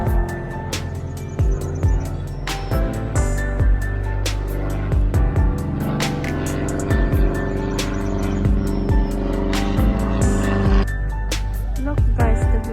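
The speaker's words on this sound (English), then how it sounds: "Ayan guys, the red airplane started to fly." A red tow airplane taking off at an airfield while pulling a glider, its engine producing a steady, loud droning hum with a buzzing, tonal quality and occasional clicks, constant throughout.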